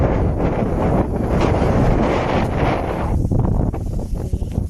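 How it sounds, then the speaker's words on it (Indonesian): Heavy wind in rural Norway roars across the microphone in a steady, low rumble, dipping briefly before surging again. "Kalian lihat kan agak berangin."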